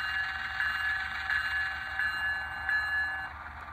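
Locomotive bell from a Walthers HO scale GE ES44C4 model train sounds in a steady, repeating ring over a faint electronic hum.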